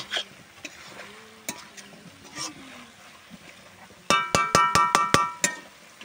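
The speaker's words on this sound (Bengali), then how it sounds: "এইভাবে নেড়ে নিতে হবে ভালো করে" A spoon stirs boiled bottle gourd dal in a metal pan with faint scraping at first. A rapid series of about seven sharp, ringing clinks follows, loud and close.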